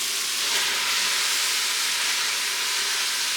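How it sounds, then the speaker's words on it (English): Shrimp sizzle in a hot pan while cooking garlic shrimp with asparagus, producing a steady, bright hiss that holds evenly throughout without pauses or voices. "Okay, let's throw the shrimp in now."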